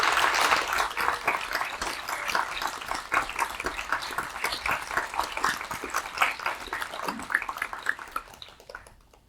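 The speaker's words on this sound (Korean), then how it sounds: "여러분 응원의 박수 부탁드리겠습니다" Audience applause at the inauguration of new national media workers' union leaders, a dense wash of many hands clapping steadily for several seconds in a hall, tapering off and fading at the end.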